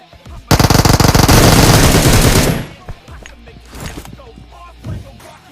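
A loud, rapid burst of automatic gunfire from a mobile shooter video game lasts about two seconds, followed by scattered softer shots and game sounds.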